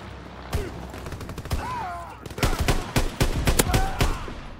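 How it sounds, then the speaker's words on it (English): Shotgun blasts in a video game: a scattered string of sharp, loud shots, denser in the second half, mixed with other gunfire and brief game sound effects, with no talk. "Using a shotgun."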